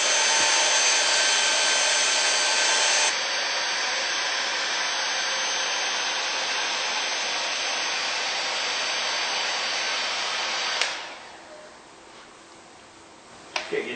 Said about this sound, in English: we're going to heat it up with a hairdryer